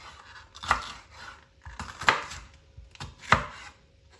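Three distinct knife chops into food on a cutting board, spaced about a second and a half apart, each a crisp close thud with faint rustling between.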